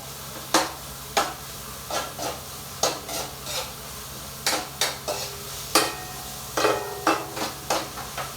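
Ground meat (giniling) browning in a pan, with a steady run of close, crisp scraping clacks from a utensil stirring against the pan over a faint sizzling bed, no talking.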